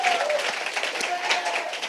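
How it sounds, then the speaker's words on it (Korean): Audience applause at a concert event, a brief, continuous patter of many hands clapping in a hall at moderate volume, with a murmur of voices beneath. "다시 한번 큰 박수로 소개해주세요."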